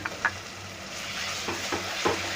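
A steady sizzle of ginger garlic paste frying in a hot pan with softened tomatoes, with a few soft stirring scrapes breaking through the continuous hiss.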